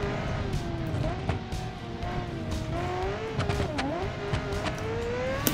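A hypercar in the driving game BeamNG, its engine revving through a racing lap with pitch rising and falling as it shifts. Occasional tire squeal and skidding come through, and the steady, fairly loud sound runs the whole time.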